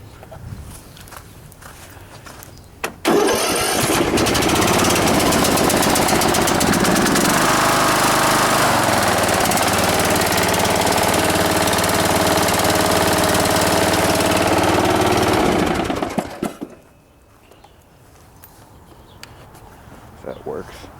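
A zero-turn lawn mower engine starts with a bang and roars loudly and steadily for about thirteen seconds, then cuts off abruptly, leaving quieter background noise.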